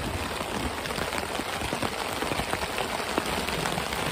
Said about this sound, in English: As y'all can hear, we're getting hit with a thunderstorm right now.